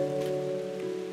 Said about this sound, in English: Raindrops start to fall.